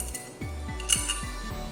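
A bolt is unscrewed from the metal support tube of a Kuhl Exzel H2 desert cooler, making a few light metallic clinks and taps spaced about a third of a second apart, close and fairly quiet.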